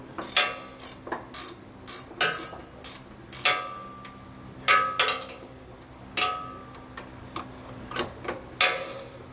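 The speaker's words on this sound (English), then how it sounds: "we'll come back with a 14 millimeter and tighten it firmly against the bottom of our frame" A ratchet with a 14 millimeter socket tightens a bolt against the underside of a vehicle frame while installing a helper spring. Quick bursts of close, crisp clicking repeat irregularly through the clip, with no talking.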